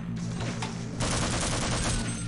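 Gunfire in Half-Life, a dense burst of rapid shots that runs nearly unbroken and turns louder and fuller halfway through.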